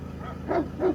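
Two short barks from a dog ring out, moderately close, with a brief gap between them, on the Elmalı highland in Turkey.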